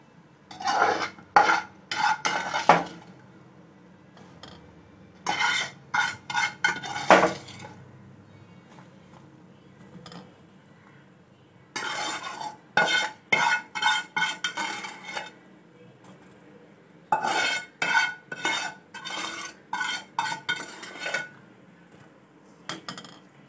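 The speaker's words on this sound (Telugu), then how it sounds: "ఇప్పుడు దీన్ని అడగంటకుండాను కలుపుతూ ఉండాలండి" A spoon stirs a rice rava payasam mixture in boiling milk: bursts of clinking and scraping against the pot come in irregular clusters, separated by quiet pauses, close and without talk.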